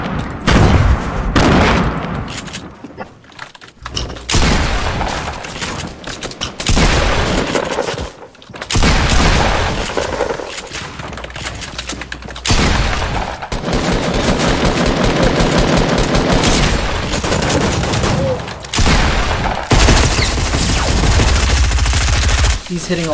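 Rapid automatic gunfire bursts and booms from the video game Fortnite play loudly and almost continuously, broken by a few short gaps, with game effects layered throughout.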